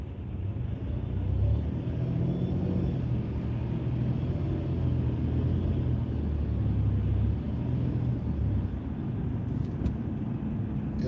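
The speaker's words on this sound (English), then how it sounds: "You see these cars coming on. That's going to add more volume to traffic." Heavy stop-and-go road traffic, heard as a steady low engine and road rumble at a constant level, with no distinct passes or horns.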